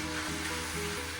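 Noodles being mixed in a hot pan, giving a continuous close sizzle with faint stirring scrapes, steady and unbroken for a moment, with no voices.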